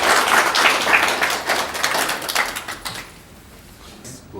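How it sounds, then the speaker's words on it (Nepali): Audience applause welcoming the chairman at a cooperative society's general assembly: dense, steady clapping from a crowd for about three seconds, then fading to a quiet room. "सभापति महोदयलाई जोरदार ताली स्वागत गर्छु।"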